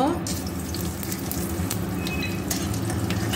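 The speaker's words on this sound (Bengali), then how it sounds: "মশলাটা ভাজা হয়ে গেছে।" Whole garam masala spices (cumin, black pepper, cloves, cardamom, cinnamon) with bay leaf and dried red chilies crackle in hot oil, a continuous close sizzle with occasional light stirring scrapes, while a voice speaks softly underneath.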